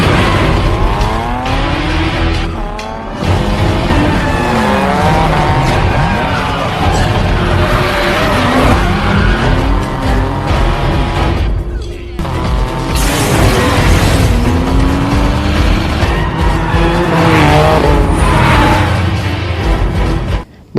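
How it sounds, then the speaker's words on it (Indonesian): Cars racing down a mountain road in the film Tokyo Drift, with loud, continuous engine roar rising and falling through gear changes, tire squeal and booming effects over a dense music score. "Tak lama Takashi datang dan balapan pun akhirnya dimulai"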